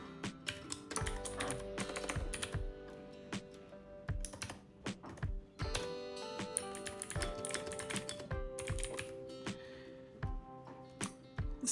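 Computer keyboard typing of a title in a design app, with rapid irregular clicks and keystroke bursts in several runs and short pauses between them, heard close up and alone over a steady background hum.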